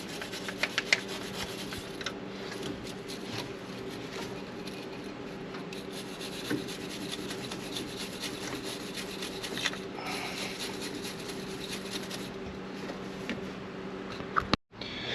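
A wire brush scrubs old gasket residue off a Ford Mustang's intake surface during a thermostat replacement, making a steady, raspy scraping that runs continuously at moderate level with no one talking.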